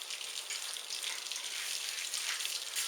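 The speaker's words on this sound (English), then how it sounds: "Now we're going to melt the stick of butter" A stick of butter melts in a pan over medium heat, giving a steady, soft, close sizzle with fine crackling and no pause.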